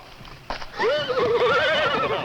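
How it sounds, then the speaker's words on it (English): A horse whinnies loudly with a long, wavering neigh after a brief thump, fairly close and heard alone. "there goes the horse"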